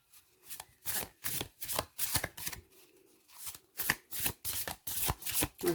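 Oracle cards with a thin card stock being shuffled by hand, a run of quick crisp riffling bursts in an uneven rhythm with short pauses, close and fairly loud, with no talking.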